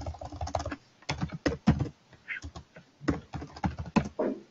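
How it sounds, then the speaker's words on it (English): Rapid bursts of typing on a computer keyboard, with clustered clicks separated by short pauses, fairly close and crisp with no talking. "We can actually type in here"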